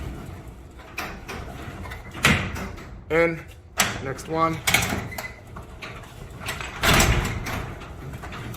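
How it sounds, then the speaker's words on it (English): Garage door rollers slide and clunk into their track as the door is pushed up during a roller replacement. Several rattling, knocking bursts are interspersed with a man's brief spoken instructions. "So now we can slide the roller in while we're pushing the door up."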